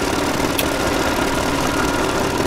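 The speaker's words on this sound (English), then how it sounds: "The engines got loud all of a sudden." Airship engines in the video game Worlds Adrift drone loudly and continuously, a dense, steady mechanical roar with no pauses and no talking over it.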